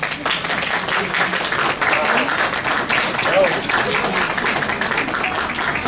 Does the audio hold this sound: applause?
yes